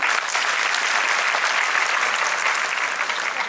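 An audience at a felicitation ceremony in Chandigarh claps loudly and continuously, a dense, even wash of applause that fills the hall from start to finish with no speech over it.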